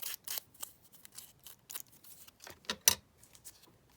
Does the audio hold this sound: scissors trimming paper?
yes